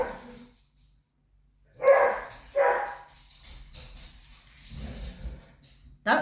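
Two dogs, Willa and Hugo, bark and yip in short loud bursts while playing indoors, with quiet gaps between the outbursts.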